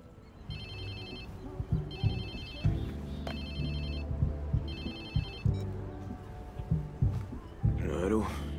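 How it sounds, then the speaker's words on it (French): A phone ringtone in the video game Watch Dogs 2, a bright electronic trill ringing in three repeated bursts, with a voice talking over it and game ambience underneath. "Allô ? Il est à qui, ce téléphone ?"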